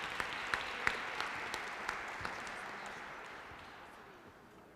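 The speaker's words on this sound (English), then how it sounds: "Let's give her a round of applause as she comes." Moderate audience applause at a Black History Month opening ceremony, a sustained wash of clapping with a few sharper close claps early on, gradually fading toward the end.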